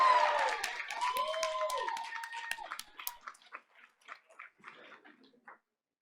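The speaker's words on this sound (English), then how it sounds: "giving a round of applause as we welcome Principal Jamie Arias from Riley College Prep Academy" Audience at a school board of education meeting applauding, a brief burst of clapping that thins into scattered claps and fades out, with a voice briefly audible at the start.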